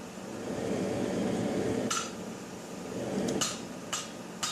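A hammer forges a wrought iron sword guard. A few sharp, ringing blows land irregularly over a steady, roaring forge background, with no talking.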